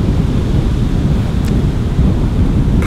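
Strong wind blowing across an open field path in a nature reserve during summer, a loud continuous rushing roar buffeting the microphone with no let-up.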